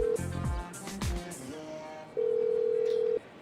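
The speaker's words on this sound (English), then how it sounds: "if you dial 32855505145 on your in-game phone, you'll actually hear his voicemail message" Dialing a number on the in-game phone in GTA 5: a few quick touch-tone beeps, then a steady electronic tone holding for about a second, heard alone and clear.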